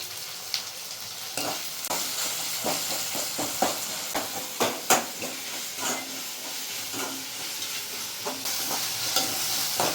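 Tomato fries in a pan for mutton liver gravy, a steady hissing sizzle broken by repeated scraping and stirring strokes close by, with no voices.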